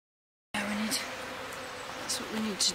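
A low, steady buzz of many bees from a wild colony on old comb hums nearby after a brief silence, with occasional louder passes and some faint talking mixed in, in Nairn.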